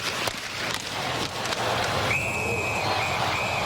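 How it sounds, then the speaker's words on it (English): A referee's whistle at an NHL hockey game between the Minnesota Wild and Los Angeles Kings sounds a sharp, steady blast broken into short bursts over the crowd and rink noise. "there is Parise just pitchforking away, and the whistle goes."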